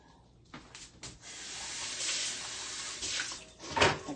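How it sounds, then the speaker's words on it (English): Tap water runs and splashes as a measuring cup is rinsed in a kitchen sink, a steady close hiss with a few louder splashes, no talking. "Rinse that out so it doesn't get sticky."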